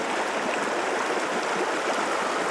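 Crown Creek, a mountain stream on the trail toward Tehipite Dome, rushes steadily and close by, a dense unbroken wash of flowing water with no voices.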